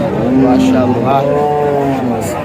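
A pregnant dairy cow at a cattle market moos loudly and close by, one long drawn-out low call with a rising and falling tone.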